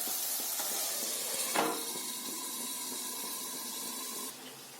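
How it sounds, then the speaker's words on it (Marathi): A steady hiss of warm water being poured into a hot pan of tinda and chana dal, with a brief splash near the start and the sound cutting off near the end. "आता थोडंसं गरम झालेलं पाणी थोडंसं टाकूया।"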